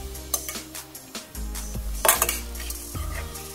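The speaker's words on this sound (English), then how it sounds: "Now I'm going to stir for 2 minutes." Shrimp fried rice being stirred in a pan at home, with repeated scraping and clinking of a utensil against the metal pan, close and fairly loud, over faint background music.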